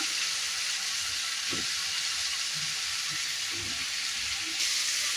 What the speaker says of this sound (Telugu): ఇప్పుడు నేను వంకాయలు వేసుకుంటున్నా